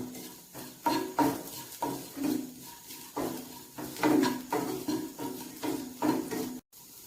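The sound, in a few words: sautéing potato and vegetable mixture in a pan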